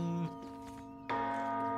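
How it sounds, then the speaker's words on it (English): A heavy bell clangs twice in the video game Baldur's Gate 3, each strike ringing out with a long sustained metallic hum that lingers between hits. "Did you ring the bell?"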